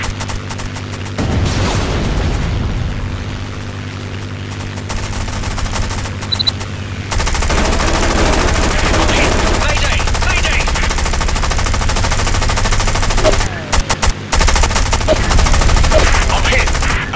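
Loud, sustained machine gun fire from aircraft in a War Wings aerial dogfight, dense continuous bursts running almost without pause, with brief gaps and booms mixed in under the game's background drone.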